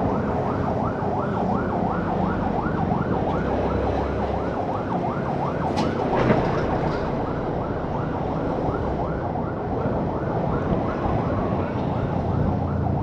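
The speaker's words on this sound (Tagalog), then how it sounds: "May ambulansya sa likod pero hindi naman siya parang nagmamadali eh" An ambulance siren wails in a steady repeating cycle behind a vehicle in traffic, moderately distant and moving slowly without urgency, continuous throughout over a low road rumble.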